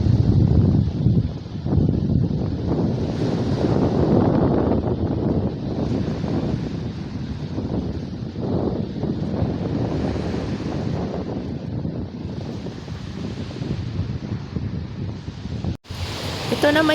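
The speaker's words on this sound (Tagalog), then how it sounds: "Wala kayong maririnig kundi ang alon, ang manakanakang huni ng mga ibon at ang hangin." Ocean waves roll in with gusting wind at a beach campsite in San Juan, Batangas, a continuous rumbling wash with buffeting wind noise rising and falling, and a brief cut near the end.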